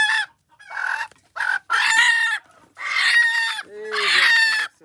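Chickens cluck and squawk loudly in agitated bursts as they are caught for slaughter, with sharp, close calls that break off and resume in a rapid, uneven rhythm.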